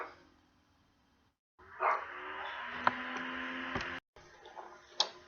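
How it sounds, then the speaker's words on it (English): A dog barks somewhere in the background of a quiet room, a few sharp, separate yaps spread across the stretch, with a short silence near the start and brief dropouts. "You may have heard the dog in the background there"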